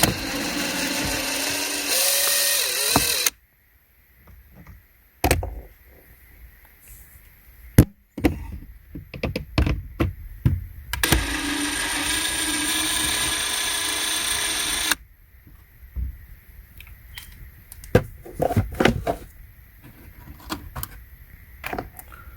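Phillips screws are backed out of a car radio panel with a power driver, several short whirring bursts separated by clicks, rattles and handling clatter nearby.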